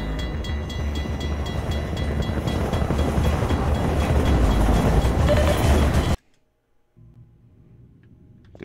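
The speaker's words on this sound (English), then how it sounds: "The train got me." Train rumbling past in the video game Half-Life 2, a loud, steady roar of rolling wheels and clatter that cuts off abruptly, leaving near silence before faint low background sound returns.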